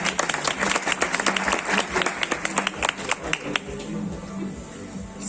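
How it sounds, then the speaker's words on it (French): An audience applauding Mélissa at an event, a burst of close, loud hand clapping with distinct claps that thins out toward the end. "On peut applaudir Mélissa."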